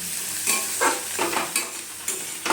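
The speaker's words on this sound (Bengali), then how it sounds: "এখানে আমি মিক্স চালের জন্য সবজিগুলো ভেজে নিচ্ছি" Beans, capsicum and carrot for mixed rice fry in a pan, a constant sizzle broken by several scraping stirs at uneven intervals, close and fairly loud, with no speech.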